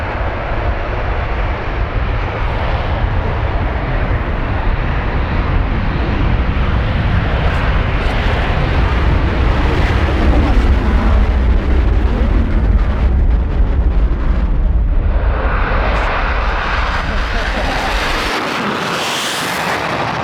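A Su-24M jet's engines roar loudly, a dense broadband rumble that swells as the afterburner engages, then shifts to a harsher hiss before cutting out near the end; no voices over it.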